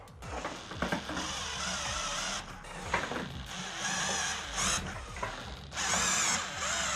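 A Craftsman cordless drill lifts a 39-pound load on a test rig, its motor whining steadily with brief pitch shifts and surges, close and alone, with no talk.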